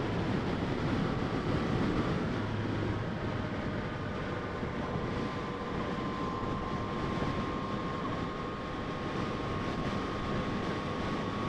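A Yamaha FZ-09 motorcycle engine pulls hard in B mode on a freeway, a steady, loud, continuous roar with a rising whine and heavy wind rush throughout, no talking.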